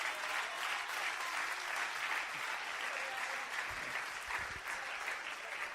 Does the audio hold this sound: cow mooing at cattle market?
no